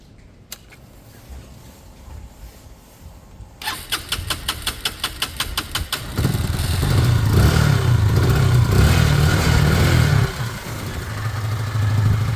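Lexmoto Michigan 125 motorcycle cranking with a run of rapid regular clicks, then catching and firing up into a steady, loud idle that keeps running close by.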